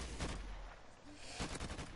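Distant gunfire from a Call of Duty: Modern Warfare Remastered match, a few muffled bursts of shots under steady game ambience, fairly faint and spread out rather than close and sharp.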